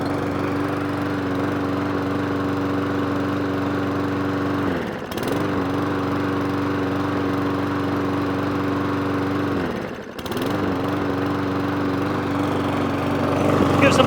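A lawnmower engine runs steadily and loud after a pull start, holding a constant drone with two brief dips in speed where it falters and recovers, and the revs rise toward the end.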